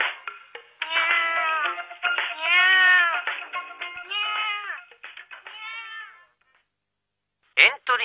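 A voice actor imitates a cat in a radio drama, producing a string of drawn-out, pleading meows in quick succession, close and clear, followed by a short pause and then a brief final mew.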